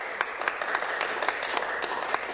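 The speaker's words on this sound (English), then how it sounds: "that applause was effusive and unnecessary, but appreciated" Scattered, fairly faint clapping in the Ontario legislature, with light irregular claps and no speech.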